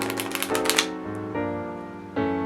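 A deck of playing cards being riffle shuffled by hand, a quick fluttering patter of cards released from the thumb, then two soft, separate slaps as the packets settle, close and fairly loud with no talking.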